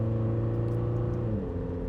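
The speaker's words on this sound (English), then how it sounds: "Listen to that noise. That sounds almost agricultural at low revs, doesn't it?" A low, rough flat-plane-crank engine of a Lamborghini Temerario prototype idles and revs steadily, with a deep droning hum that shifts slightly in pitch near the end.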